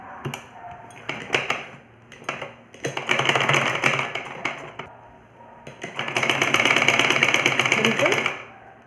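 A sewing machine stitches the shoulder seam of a ladies' kurta, running in two steady bursts of fast, close whirring and clatter, with brief handling noises before and between them.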